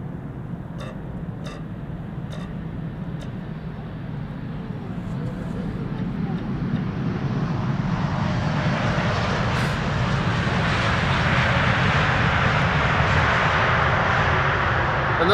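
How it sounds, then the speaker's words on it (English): An Emirates Airbus A380 lands at Amsterdam Schiphol with subdued reverse thrust, a steady broad jet roar that swells gradually over the clip, heard from a distance outdoors with a few faint ticks early on. "Another subdued landing, unfortunately. The Emirates A380."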